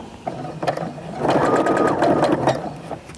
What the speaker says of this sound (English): I'm just going to stitch in place for a little bit